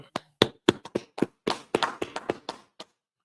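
A handful of people clap hands in a quick, uneven burst of sharp claps that trail off after a few seconds.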